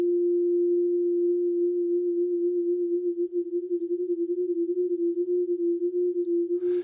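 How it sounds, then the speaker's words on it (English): A steady pure sine tone hums alone, its level starting to waver and pulse as a chorus effect is brought in, giving a gently swirling wobble. "I'm getting this kind of swirly left and right sound."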